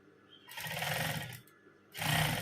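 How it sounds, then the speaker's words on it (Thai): A sewing machine stitches a small fabric edge for a ruffled neckline, whirring in two short close runs with a brief pause between them. "เราจะเย็บแบบนี้ไปก่อนนะคะ เย็บเล็กๆเนี้ยค่ะ"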